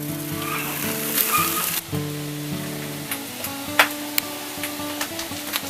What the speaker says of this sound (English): Steaks on the grill, garlic bread, mushrooms and onions.